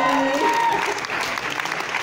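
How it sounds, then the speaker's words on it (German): An audience at a premiere claps steadily in a dense burst of applause, with a voice briefly audible at the start. "Großen Applaus"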